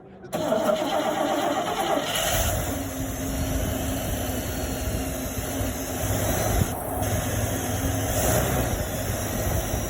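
Barn-find Oldsmobile with a Tri-power carbureted engine running steadily with a broad, hissing roar after a brief start, loud and continuous throughout.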